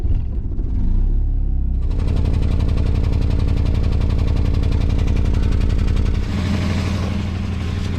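A Suzuki Ignis Sport's loud, rough engine idles with a rapid, uneven rattling chug that kicks in abruptly and stays harsh, suggesting a faulty or loose exhaust.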